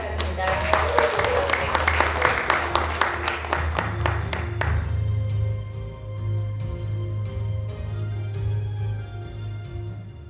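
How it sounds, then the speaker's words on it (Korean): Applause from the audience at a 2021 graduation concert in a Lotte Hotel hall, a thick burst of clapping for about four seconds before it stops abruptly, leaving a low hum and faint room noise. "여러분 큰 박수로 맞이해주시기 바랍니다."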